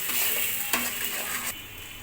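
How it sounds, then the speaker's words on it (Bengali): Chicken frying in a home kitchen pan with onion and green chili, a steady close sizzle with brief stirring scrapes, continuous and loud with no talking. "এই তো চিকেনটা প্রায় ভাজা হয়ে আসছে"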